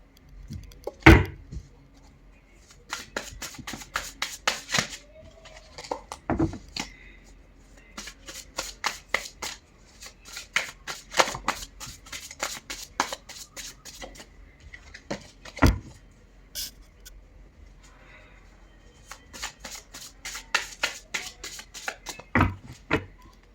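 Tarot cards are shuffled by hand in repeated bursts of riffling and snapping, close and crisp, with short pauses between rounds and a few single card taps.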